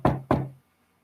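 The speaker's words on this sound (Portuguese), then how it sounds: "como por exemplo batida de porta" Two quick, solid knocks on a wooden door, a theatre sound effect, close and dry, followed by silence.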